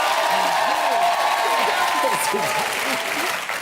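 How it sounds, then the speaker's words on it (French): A crowd applauds steadily and loudly, with scattered voices and cheers mixed into the clapping throughout. "Michael Lionel, messieurs, applaudissons."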